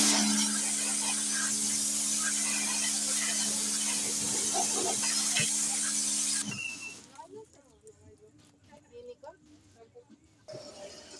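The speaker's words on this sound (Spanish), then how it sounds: "vamos a pistolearle para que vean cómo tira toda la mugre" A compressed-air spray gun blasts grime off a pickup truck's brake pads in a steady, loud hissing rush for about six seconds, then cuts off abruptly, leaving quieter workshop sounds and someone talking.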